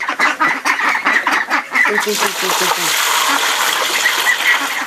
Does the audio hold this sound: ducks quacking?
yes